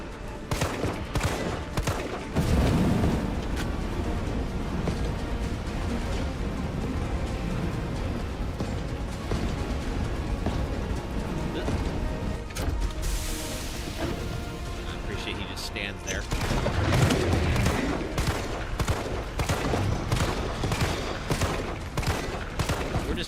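Sustained gunfire in Resident Evil 2, aimed at a fuel tank, with dense rapid shots running for most of the stretch, a short lull partway through, then heavier firing, all under ongoing game sound.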